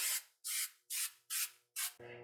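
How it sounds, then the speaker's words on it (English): Five short hissing bursts of an aerosol spray adhesive onto leatherette in a steady rhythm, close and fairly loud, followed by a brief low rustle at the end. "I'm actually going to spray my leatherette"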